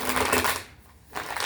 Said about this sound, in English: I'm just led to keep on shuffling.